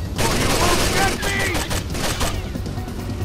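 Sustained rapid gunfire in the video game Rainbow Six Vegas, a dense, loud burst of repeated shots filling the whole moment with a constant rattling roar.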